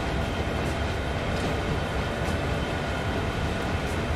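A train rumbling past close by in the video game Train Sim World 2, a loud, steady roar of rolling wheels and wagons with faint rhythmic clacks, continuous throughout and without talk.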